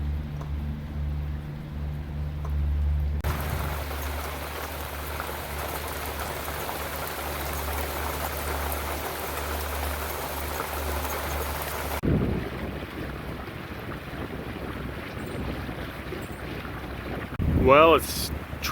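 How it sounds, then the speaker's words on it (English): Steady rain patters on a surface with a low hiss, continuing throughout, joined briefly by a voice near the end. "it's trying to stop raining"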